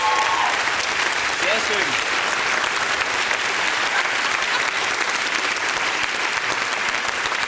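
Studio audience applause on the German children's TV programme Die grosse Maus Show, a dense, steady clapping that fills the whole stretch at close range, with a host's brief spoken remark near the start.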